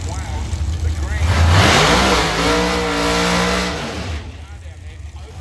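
A V8 drag racing car at an Australian drag strip roars as it accelerates down the strip, its engine note climbing loud and close while a commentator talks over it.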